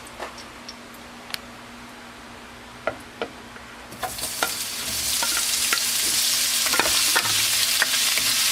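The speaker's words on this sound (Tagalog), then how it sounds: "Gigisa na muna yung pork." Pork sautéing in a little oil in a pan for Filipino pancit canton bihon: a few soft stirring clicks at first, then a close, steady sizzle swells up and holds to the end.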